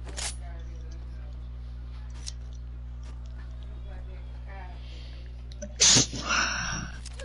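A single short, sharp sneeze near the end, loud and close, rising over a constant electrical hum and faint background noise, followed by a brief breathy sound.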